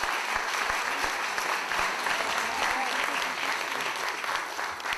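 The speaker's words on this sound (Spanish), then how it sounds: "pedimos un aplauso" An audience at a lecture honouring a writer applauds with sustained, even clapping that fills the hall at moderate loudness.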